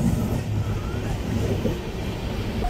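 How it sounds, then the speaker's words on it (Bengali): Inside a moving Tamralipta Express train between Digha and Howrah, a low, steady rail rumble rolls on as a local train passes alongside on the neighbouring track. "আর পাশ দিয়ে কিন্তু একটা লোকাল ট্রেন পাস হলো"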